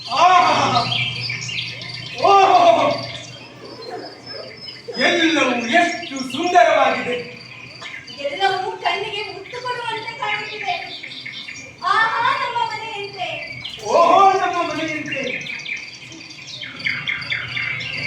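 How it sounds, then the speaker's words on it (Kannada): Chirping bird sounds used as an effect in a stage play at a state-level drama festival come in repeated bright bursts of twittering, mixed with voices and singing on stage. "ಮರಿಗಳು ಬರ್ತಾವಂತೆ. ಚಿಲಿಪಿಲಿ ಚಿಲಿಪಿಲಿ ಚಿಲಿಪಿಲಿ ಚಿಲಿಪಿಲಿ ಗುಟ್ಟಾವಂತೆ."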